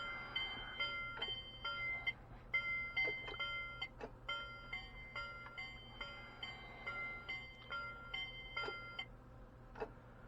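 A machine alarm set off by a loosely attached cable, repeated electronic beeps in a steady pulsing pattern over a low constant hum, fairly quiet with no talking.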